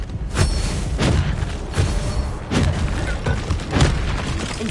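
Spell blasts boom in Hogwarts Legacy combat, about five heavy thumping bursts spaced roughly a second apart, each with a short rumbling decay, mid-distance and fairly loud.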